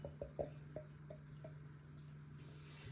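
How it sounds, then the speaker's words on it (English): Stout beer glugging from a bottle into a glass, a run of soft wet plops and gurgles early on that settle into a faint steady fizzing pour under a low hum, close by and quiet. "look at this stout pouring"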